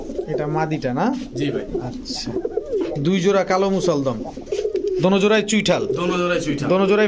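Pigeons coo over and over at a Bangladeshi pigeon market where kaldom, golla, gorra and military breeds are sold, their throaty calls overlapping close by with traders talking throughout.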